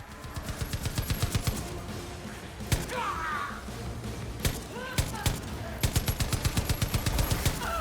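Rapid automatic gunfire in Far Cry 5's zombie mode, bursts of repeated shots at the start and end with single heavy reports between, loud and close over a busy game soundscape with some voice.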